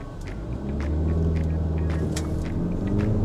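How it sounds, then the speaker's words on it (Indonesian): A Mitsubishi Destinator with a 1500cc turbo engine accelerating hard from a start in tarmac mode, heard from inside as a steady, loud low engine rumble and road hum that builds and holds throughout. "sekarang kita akan tes akselerasi ini"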